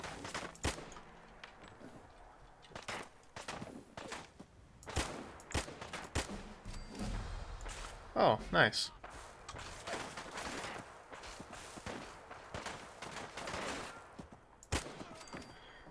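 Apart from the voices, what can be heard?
enemy gunfire in a video game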